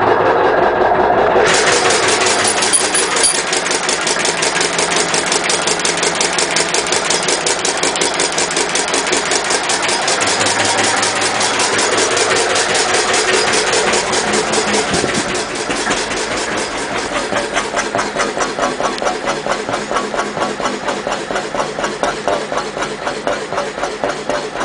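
A Lister CS stationary engine runs on waste vegetable oil, a loud, steady diesel chugging that holds for the whole stretch. It is close and unbroken, with a slight change in tone partway through.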